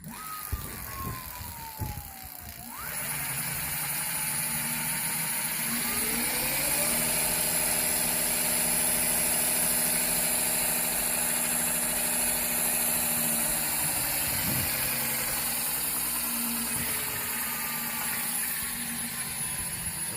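An electric bike fitted with an add-on Motan Power upgrade motor spins up on the throttle, giving a steady whine that rises in pitch and then holds as a level tone, close and continuous with faint background noise.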